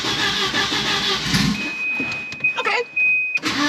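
A Volvo 940 engine cranks with a rough whirring starter, then catches and fires, with a high electrical whine and sputtering bursts, loud and close.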